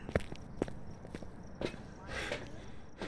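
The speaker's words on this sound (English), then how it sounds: "I heard the footsteps the entire time." Ghost footsteps in the horror game Phasmophobia, several distinct thudding steps at an uneven pace, fairly faint, with a brief rustle near the end.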